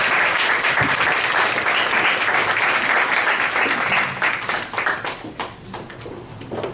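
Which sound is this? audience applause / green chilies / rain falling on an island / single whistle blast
audience applause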